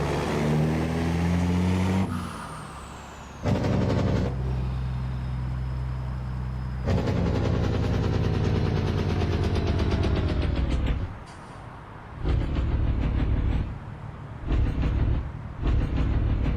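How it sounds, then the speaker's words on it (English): Simulated Peterbilt 389 semi-truck engine in American Truck Simulator, a loud steady diesel drone with gear-change breaks and shifting pitch as the truck drives down the road, heard alone without talk. "Get a little bit of outside view of the truck as we go down the road. Plus you really get to hear that engine."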